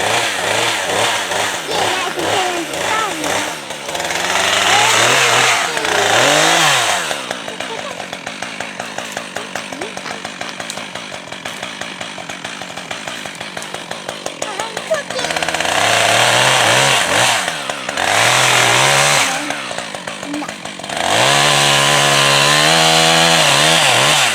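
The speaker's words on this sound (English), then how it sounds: "We now have gas in the chainsaw." A loud chainsaw roars for a long stretch while felling a tree on a Maine Christmas tree farm, rising into heavy cutting bursts and easing back to idle several times.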